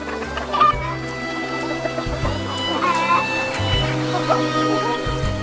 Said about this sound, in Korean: 여느 닭과는 다른 푸르스름한 회색 깃털을 한 닭입니다.